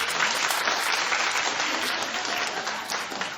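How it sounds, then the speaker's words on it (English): Studio audience on a daytime talk show clapping to vote in a poll, a steady dense wash of applause that holds at full strength for the whole stretch with no voices over it. "Clap if you think Tori and Dean are worse."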